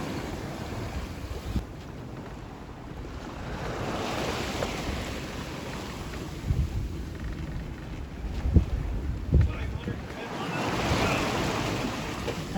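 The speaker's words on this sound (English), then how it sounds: "So we've got some big waves pushing us all the way around" Big waves surge and break around a sailboat in 30-knot-plus gusts, with steady wind roar buffeting the microphone and occasional heavier thumps of water against the hull.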